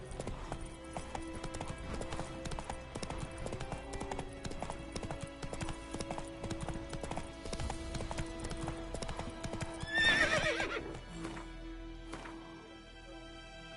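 Roach, the horse in The Witcher 3, gallops in a fast, steady clip-clop of hooves that runs throughout. Game music plays underneath, and a brief whinny-like burst rises near the end.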